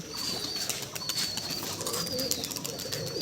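High-flying pigeons are let go outdoors, and a steady rush of flapping wings fills the air alongside a thin, recurring whistle, loud and continuous with no voices.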